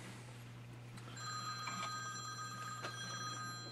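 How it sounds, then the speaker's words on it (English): A phone rings in a quiet room during handloading of .455 Webley revolver cartridges, its bell-like trilling tone starting after about a second and continuing steadily over a low background hum. "And my phone is ringing."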